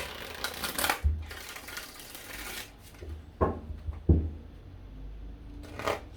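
Tarot card shuffling, a few sharp riffling bursts and soft slaps spaced across the clip, close and moderately loud with quiet gaps between.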